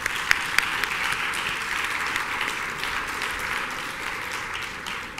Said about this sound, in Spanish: Recibámoslo con un fuerte aplauso para todos ellos.